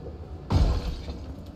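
Window glass shatters in Project Zomboid, one sharp crash at close range followed by a short scatter of falling shards, with no talk over it.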